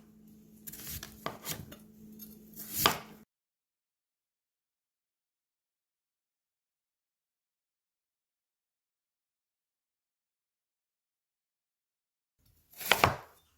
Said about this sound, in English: we're going to take our radish and slice them into thick slices, and then we're going to cut it in half